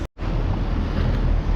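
Small waves lapping on the open water of the Sea of Straw in Lisbon, heard from a tour boat as a steady, close, broadband wash with wind buffeting the microphone, no talking.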